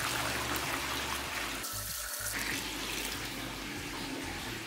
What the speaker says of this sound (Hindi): चलिए फटाफट पानी को कर देते हैं फिल